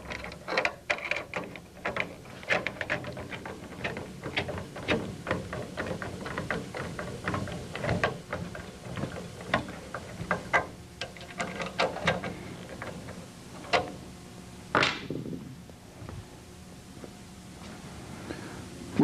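Screws, washers and nuts being tightened on a pre-punched Van's RV-6 rudder: a string of close, sharp ratcheting clicks and metallic taps, irregular in rhythm, with brief pauses between bursts.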